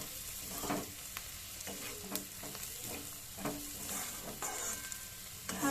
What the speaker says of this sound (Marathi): आता हे जे शेंगदाण्याचं कूट होतं ते टाकायचं आणि सर्व मिक्स करून घ्यायचं।